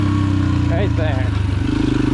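Pit bike engine at full throttle in second gear, riding out at the dunes, a loud steady buzzing drone with pulsing revs close to the microphone, a voice briefly calling out over it.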